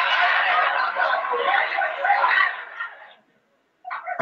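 A voice imitates a chicken clucking on a radio show, a raspy, throaty cackle held for about three seconds, then a pause and a brief second burst.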